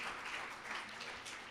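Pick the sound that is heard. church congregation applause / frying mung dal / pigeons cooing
church congregation applause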